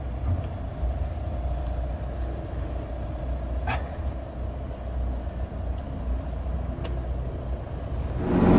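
A VW T3 Syncro van on the road with a steady, low engine rumble and tire noise throughout, a few brief clicks and rattles, and a louder swell of noise near the end.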